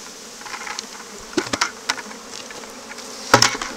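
Angry honeybees buzz around a hive during a shed removal, a steady hum punctuated by sharp clicks and taps close to the listener.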